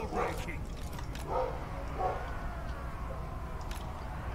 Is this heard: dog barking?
yes